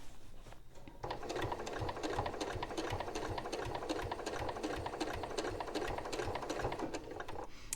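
Sewing machine stitching down glue-basted quilt binding along a corner, a rapid, even mechanical rattle starting after a second of quiet and running steadily, close and clear.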